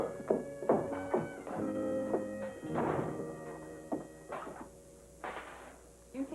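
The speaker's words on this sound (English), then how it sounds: "Close the door." A door closing in a 1966 television drama: several dull wooden thunks and knocks, with tonal background sound between them.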